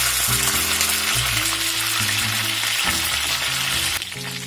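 Loud, unbroken frying sizzle from Shanghai home-style pork chops in a high-sided, round-bottomed wok, close and bright, easing slightly near the end, with background music and no voices.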